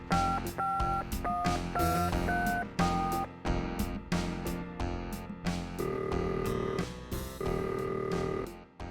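Telephone keypad dialing tones, a rapid series of short distinct beeps of varying pitch, followed by a couple of longer held tones, clear and close over a soft music bed.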